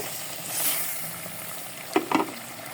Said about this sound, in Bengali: এই যে দেখুন আমার মাংসটা ভুনা হচ্ছে